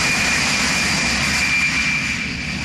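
Steady, loud roar of a Gulfstream jet engine, a continuous broadband whine with a sustained high tone and no pauses or voices.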